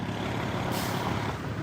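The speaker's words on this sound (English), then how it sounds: "Look at these cars." Trucks and cars roll through an intersection as the light turns green, a steady, close road rumble with a hiss of air brakes partway through, no voices.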